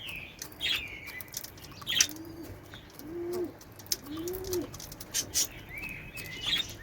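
Pigeons coo softly in a few low, rolling phrases on a farm, mixed with chirps and a brief flutter of wings, with no voices present.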